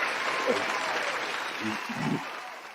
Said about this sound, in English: I gotta try this one special effect, but I gotta get some applause going for you